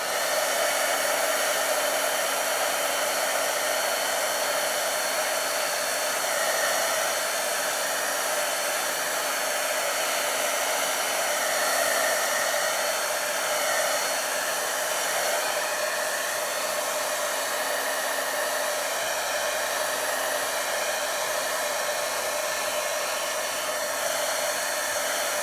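A heat tool blows steadily and loudly for the whole stretch while heat-setting resin-based stencil ink on a card, a constant whirring hiss with no pauses and no talk.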